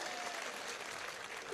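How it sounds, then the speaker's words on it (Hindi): Dense, steady audience applause at a Hindi kavi sammelan comedy poetry show in Khategaon, a continuous wash of many clapping hands with no talk over it. "एक बार ढंग से तालियां बजाओ यार"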